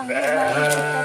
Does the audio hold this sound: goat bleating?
yes